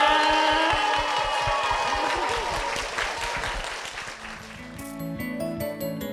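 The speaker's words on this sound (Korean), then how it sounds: "우리 축복의 박수 부탁드리겠습니다" Applause fills a church at first, then thins out and fades as organ or keyboard music comes in toward the end.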